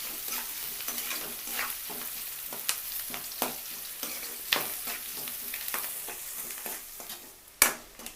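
Chopped onions frying with salt in a pan crackle in a constant sizzle, punctuated by repeated scraping clicks from a spatula stirring at irregular intervals, with one sharper knock near the end.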